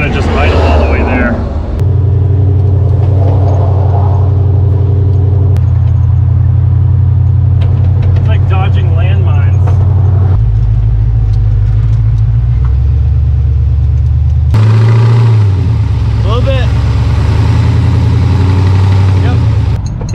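A broken-down car's engine idles steadily with a deep, constant low rumble and a shift in pitch partway through, while people talk over it throughout.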